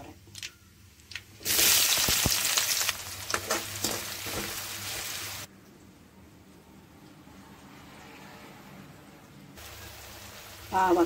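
Onions dropped into hot oil with popping mustard seeds for a bitter gourd stir-fry, a loud burst of sizzling that settles into a quieter steady fry, with brief clatter.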